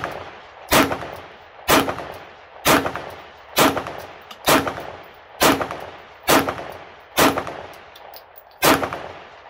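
A Glock pistol fires nine or ten loud, sharp shots at a steady pace, each about a second apart. Every report is followed by a short echoing tail outdoors, and no voices are heard.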